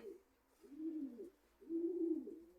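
Racing pigeons in a loft coo in two soft, drawn-out rolling phrases separated by a brief pause, close and fairly quiet with no talking.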